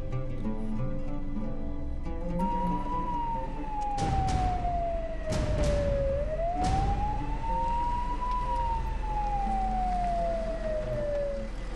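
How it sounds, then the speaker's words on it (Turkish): An ambulance siren wails in long rising and falling sweeps, loud and steady over a low engine and music-like bed, with a few sharp thumps breaking through midway during a tense emergency scene. "Ambulans yolda geliyor komutan."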